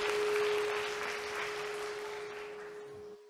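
Audience applause for three Santa volunteers at a children's Christmas lecture, a steady wash of clapping from a crowded hall with a constant tone underneath, fading slightly before cutting off.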